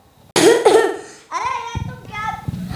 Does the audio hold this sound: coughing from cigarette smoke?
yes